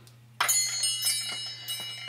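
Homemade Imperial Probe Droid wind chimes ring out with several bright metallic strikes, their tones overlapping and lingering, over a low steady hum.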